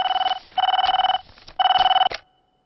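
An old-style telephone bell rings in two loud, close bursts of rapid trilling, each lasting about half a second to a second with a brief gap between, then falls silent.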